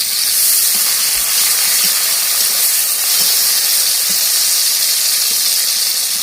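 Tomatoes hit a hot pan for a potato dum with drumstick flowers, giving a loud, continuous hissing sizzle that stays steady throughout with no talking.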